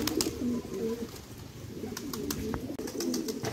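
Pigeons coo repeatedly at a pigeon-keeping loft in Qataghan, their low throaty calls rising and falling in a steady rhythm against a busy background of bird noise, with a few sharp higher chirps mixed in.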